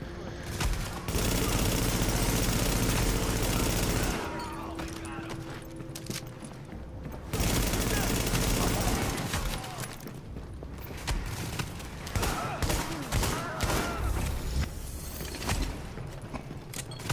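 Gunfire in a shooter video game using the Striker classified gear set, with loud bursts of shots, a couple of pauses, then further scattered firing and game sounds throughout.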